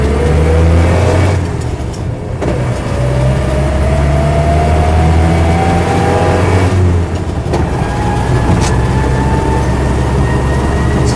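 A Land Rover Series III 88in petrol Safari revs close by with a loud, rough engine roar, pitch climbing through the gears with brief dips at the shifts and a faint transmission whine.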